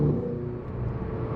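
A McLaren GT sports car with 620 horsepower driving through a short tunnel, its engine a steady, enclosed low drone and rumble throughout.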